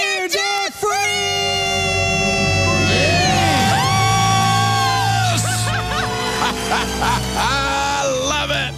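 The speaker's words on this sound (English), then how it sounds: "Let's hear a debt-free scream." Loud, close screaming and whooping from a small group and a studio audience celebrating being debt-free on a radio show, with overlapping shrill voices, cheering and laughter that fade into scattered shouts.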